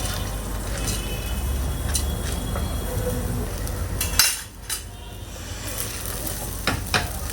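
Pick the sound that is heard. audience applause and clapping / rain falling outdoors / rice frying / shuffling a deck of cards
rice frying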